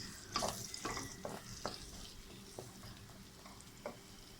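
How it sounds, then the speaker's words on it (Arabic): Onion sautéing gently in a pan, a soft steady sizzle broken by several sharp stirring scrapes and clicks spaced about half a second apart, close and fairly quiet with no talk. "هنبتدي بقى نشوح بصلة اهي"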